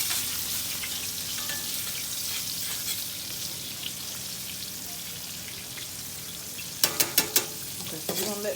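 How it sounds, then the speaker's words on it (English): Buttermilk-battered pork chops fry in a pan with a steady, soft sizzle and crackle throughout, then a quick cluster of sharp spatters and taps near the end. "Okay, so we're gonna let these fry up."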